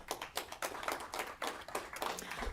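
Audience at a city council meeting clapping in a quick, irregular burst of hand claps, close and fairly dense, with no talk over it.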